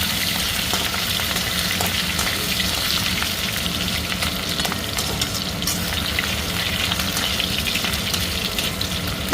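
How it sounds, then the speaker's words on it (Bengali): Prawns refried in hot oil in a pan for a prawn and sweet pumpkin curry, giving a dense, steady sizzle and crackle that runs unbroken and fairly loud throughout, with no talking. "ভাজা চিংড়ি আরেকবার ভেজে নেব।"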